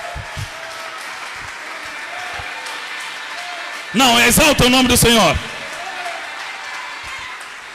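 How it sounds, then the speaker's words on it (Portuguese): Congregation applause in a church service, a steady wash of clapping throughout, briefly covered in the middle by a loud, shouted voice of a preacher before the clapping carries on alone. "Aplauda o Senhor, glorifique o nome dele"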